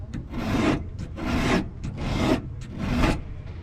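A WRD winged trimming blade is sharpened with repeated rasping file strokes along its edge, four steady passes in an even rhythm, close and clear with no talking.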